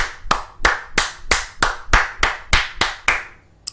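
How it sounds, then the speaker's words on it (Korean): Ten evenly spaced, loud hand claps in a slow, steady rhythm, close by with no talking. "박수를 쳐드리고 싶네요"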